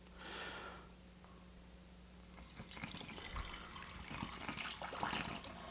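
Liquid cocktail trickles and splashes steadily through a funnel into a small aging barrel, a quiet continuous pour lasting several seconds.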